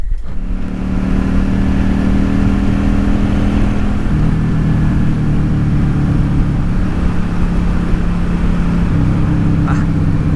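A Yamaha XVS650 motorcycle engine while riding, a loud continuous mid-pitched drone with steady pitch shifts between gears and constant wind noise over it.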